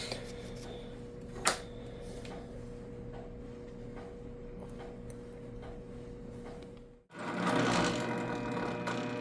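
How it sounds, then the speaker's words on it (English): A metal lathe runs slowly at 96 RPM with a parting blade cutting, giving a steady low mechanical hum with faint regular ticking, a single sharp knock early on, and a brief dip before a louder grinding surge near the end. "Run the parting blade slow, maybe 100 RPM. We're at 96 RPM, which is good."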